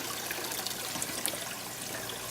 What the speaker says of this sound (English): I get this hose, and as you can see, this one is adding water in